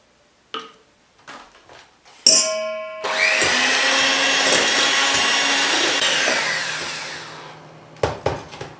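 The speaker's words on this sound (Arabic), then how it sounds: "ما بقى لي كان باش نركض الكريمه الطازجه" Electric mixer whipping fresh cream for a chocolate Parisian cake, a loud steady whirring drone for about five seconds that fades slightly, then clattering handling noises, with no talk.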